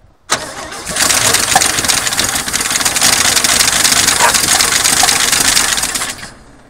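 A 1972 Chevy pickup engine, unused for 24 years, cranks and fires almost at once, then runs loud and rough for about six seconds before cutting off.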